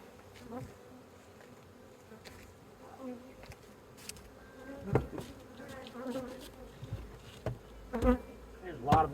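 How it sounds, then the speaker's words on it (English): Honeybees buzzing around open beehives during a nectar flow, a soft, fluctuating drone with individual bees swelling past close by in uneven bursts, no talking. "There's a lot of bees in these hives."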